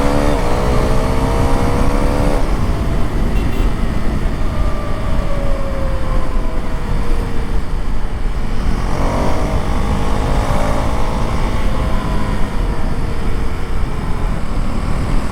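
A Husqvarna Svartpilen 401 motorcycle under way, a loud, constant engine drone mixed with heavy wind rush that holds steady throughout, with faint pitch rises as the revs change.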